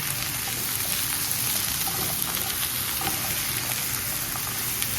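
Cashews stir-fry in a pan for kung pao chicken, giving a steady, moderately loud sizzle with light crackles and occasional stirring scrapes throughout, with no voices.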